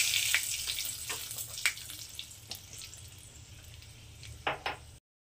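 Whole garam masala spices — cinnamon, cloves, cardamom, black peppercorns — and a bay leaf frying with dried chillies in hot oil for chicken ghugni, giving a soft steady sizzle broken by a few sharp crackles and pops.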